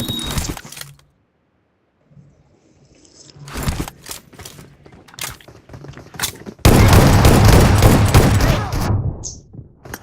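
Bursts of gunfire in a video game shooter, with sharp broadband blasts around the one- and four-second marks, then a loud sustained volley of rapid fire filling the final seconds.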